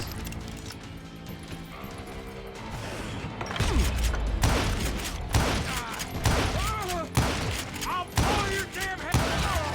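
Pistol gunfire from the Western shooter Call of Juarez: Gunslinger, a dense run of sharp, loud shots arriving in bursts over rumbling game sound and music, growing heavier midway through.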